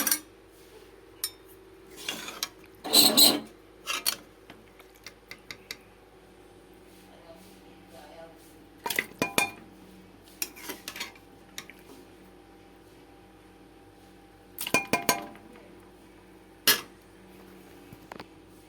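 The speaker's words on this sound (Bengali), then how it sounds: "আমি মটনটাকে কুকারে ঢেলে দিলাম" Cooked mutton being tipped into a pressure cooker, with scattered metallic clinks and scrapes of a spoon against the vessel in sparse bursts over a quiet kitchen background.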